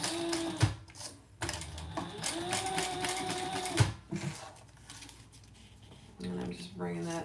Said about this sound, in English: I'm just going to stitch that